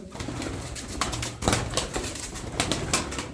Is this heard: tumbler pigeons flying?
yes